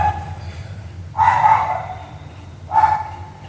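A dog barks at night, two loud close barks about a second and a half apart over a low steady background hum.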